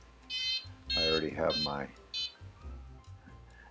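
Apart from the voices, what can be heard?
paragliding variometer beeping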